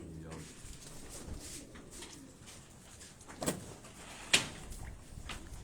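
Pigeons at a rooftop loft in Karachi, soft cooing and shuffling under low background noise, with two sharp knocks like a door or cage latch and people talking nearby.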